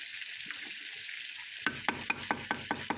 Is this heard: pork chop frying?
yes